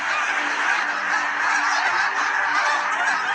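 A dense flock of geese honks continuously in panic as eagles put them to flight, a loud, overlapping clamour of many birds with no pauses.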